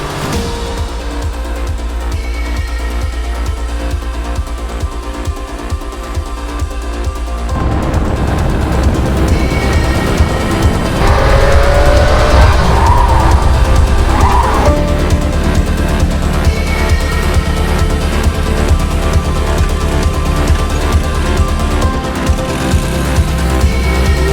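Race car on a Pikes Peak hill climb during a morning practice session, engine droning loud and steady throughout, rising to a stronger, busier roar partway through the run.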